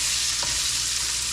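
Onions and mushrooms frying in bacon grease while cooking a stuffed whitetail venison backstrap, a close, steady hiss of sizzling with a brief stir partway through.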